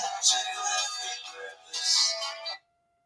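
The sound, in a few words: mobile phone ringtone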